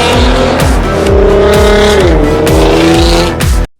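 A Nissan GT-R sports car drives hard and close, its loud engine revving up and down through gear shifts for several seconds before cutting off abruptly.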